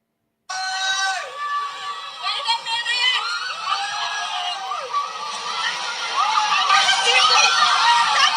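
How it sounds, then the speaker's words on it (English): A woman screams and yells repeatedly over the rushing noise of a fast amusement ride about 30 seconds long, with other voices shouting and laughing around her. "if you listen, you can hear my mom screaming the whole time"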